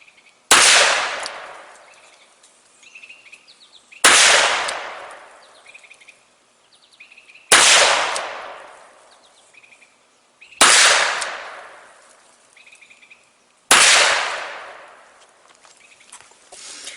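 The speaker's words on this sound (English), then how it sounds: "now let's shoot the lesser expensive revolver and see what happens" Five sharp revolver gunshots from a less expensive revolver fired in an accuracy test, each a loud crack with a short ringing decay, spaced roughly three seconds apart with quiet between.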